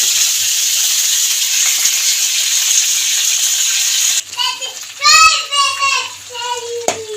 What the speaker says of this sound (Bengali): তেলটা গরম হয়ে গেছে। যে সেদ্ধ করা বাঁধাকপির পাতাটা দিয়ে নিলাম কড়াইয়ের মধ্যে।